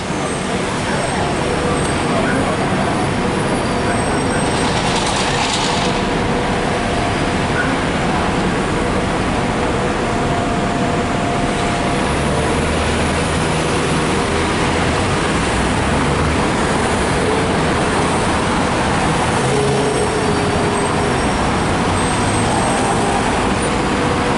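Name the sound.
city bus in downtown Houston traffic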